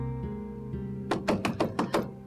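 Knuckles rap on a closed door in a quick series of about six firm knocks, close and clear after a quiet stretch with low background music.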